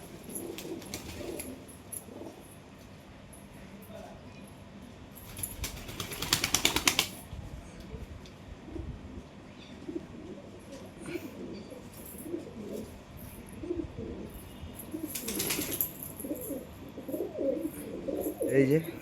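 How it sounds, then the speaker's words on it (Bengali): Pet pigeons at a rooftop pigeon house coo softly and continuously, with two loud bursts of wing flapping as birds land, amid light ambient outdoor noise. "এই যে আমার সব পায়রা নেমে গেছে"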